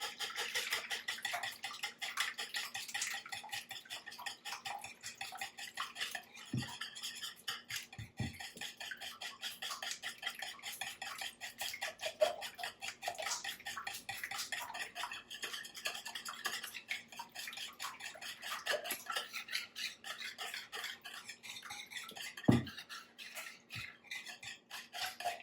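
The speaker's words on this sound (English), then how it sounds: "So we're going to whisk these together." A whisk beats quiche ingredients together in a bowl, making a fast, steady rhythmic scraping with a few louder clinks against the side, close and alone.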